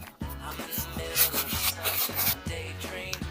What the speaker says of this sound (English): Just gonna clean some excess oil off my hands and rub it down again.